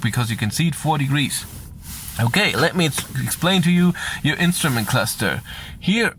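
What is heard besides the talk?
No everyday noises stand out.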